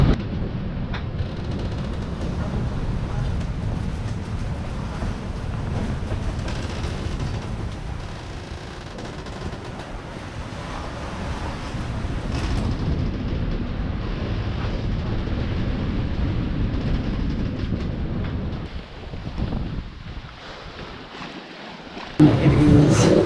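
A sailing boat pushes through waves on the open sea about 30 nautical miles offshore, giving continuous rushing water and hull wash with surging swells and wind, loud and close, a brief dip near the end.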